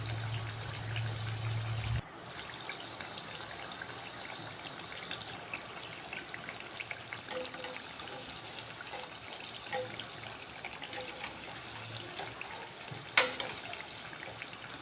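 Satyachi karanji, layered tricolor pastries, fry in oil with a steady, faint, continuous hiss and a couple of isolated clicks.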